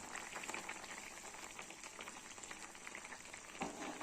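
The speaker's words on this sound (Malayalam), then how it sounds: "ഇത് നല്ലപോലെ ഒന്ന് തിളക്കട്ടെ." Coconut fish curry bubbling in a pot, Kerala style, giving a steady close simmering hiss and fizz throughout with no talk.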